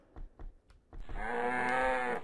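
Cow in the video game Mine Blocks, a few soft footstep thuds followed by a single long, loud, drawn-out moo.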